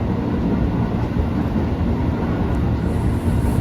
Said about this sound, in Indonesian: Ini papasan dengan kereta yang ke arah Duri.